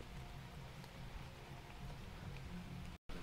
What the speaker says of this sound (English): It's kind of like a light rain, so it's not too bad.